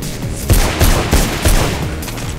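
Loud, close bursts of machine gun fire in Mirror's Edge, five or six heavy rhythmic volleys with booming low thuds, spaced about a third of a second apart.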